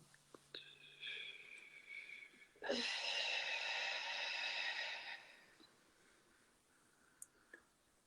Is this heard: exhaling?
yes